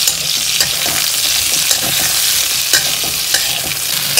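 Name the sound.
pointed gourd and potato curry frying and being stirred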